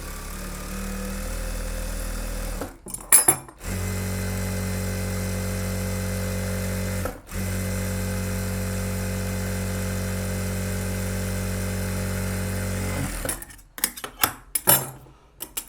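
A sewing machine stitches a quarter-inch folded hem on a blouse back neck, a steady close motor whir that pauses briefly twice and then stops, followed by a few light handling clicks.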